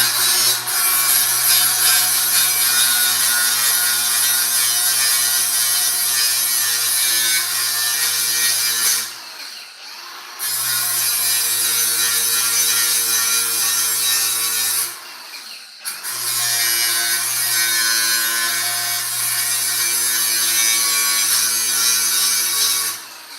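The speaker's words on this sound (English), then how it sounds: "I gotta grind down this weld." An electric grinder works down a weld on the cab corner and rocker of a 2006 Chevy Silverado, a loud, steady high whine running continuously in three long passes separated by two brief pauses.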